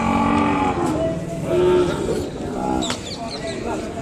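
An Ongole bull calf lets out a drawn, low moo at a busy cattle market in Kodada, close and clear over the murmur of people talking and general crowd noise.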